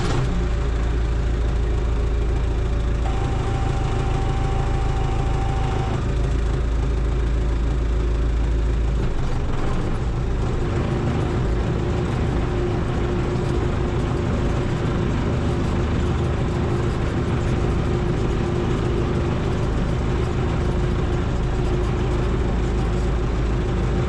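A new blue tractor engine runs steadily for the whole stretch, with a low, heavy, continuous drone and no talk over it.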